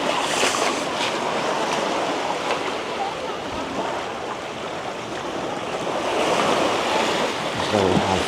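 Ocean waves at high tide on Padang Padang Beach in Bali, Uluwatu, wash in a continuous close roar of surf, with wind buffeting the microphone and a brief voice near the end.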